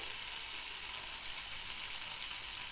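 Spices frying in hot oil in a pan give a steady, dense sizzle, close and continuous throughout with no talk.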